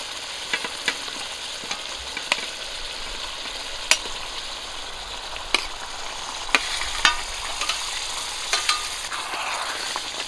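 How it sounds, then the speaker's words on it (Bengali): Fried ash gourd (chal kumro) pieces and chicken for a chicken curry sizzle steadily in hot oil in a pan, with scattered sharp clicks and scrapes of stirring over the constant frying hiss. "এই সময় আমি দিয়ে দেবো ভেজে রাখা কুমড়ো আর চিকেনগুলো।"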